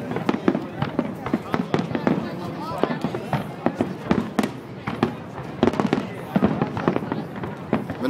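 Fourth of July fireworks in New York City crack and pop in a rapid, irregular barrage of sharp bursts at fairly close range, with people talking and a crowd murmuring underneath.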